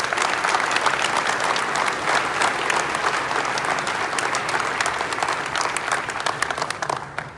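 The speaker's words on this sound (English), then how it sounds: "How about one more time, round of applause for all the award winners tonight." Sustained applause from a fire school opening ceremony audience honoring award winners, a dense, even wash of many hands clapping that continues strongly before tapering at the very end.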